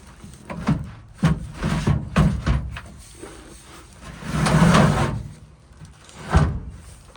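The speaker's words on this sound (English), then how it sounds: "Back window access, and then the door opens." The rear door of an M43 Dodge ambulance is worked open, giving a series of close metallic clunks and rattles, then a longer scraping creak of the door swinging, then a final knock.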